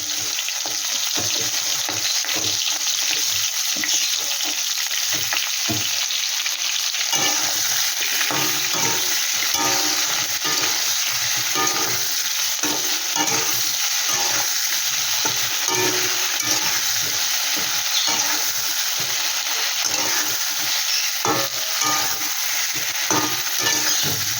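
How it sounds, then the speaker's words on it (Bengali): Prawns fry in hot oil in a wok, giving a loud, continuous sizzle with frequent small crackles and occasional clinks of stirring, with no talking. "কড়াইতে আমি তেল বসিয়ে দিয়েছি চিংড়ি মাছগুলো আমি দিয়ে দিয়ে দিচ্ছি"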